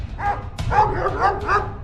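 Cartoon dogs bark in a quick series of yapping woofs, several sharp barks following one another at close range with no talk over them.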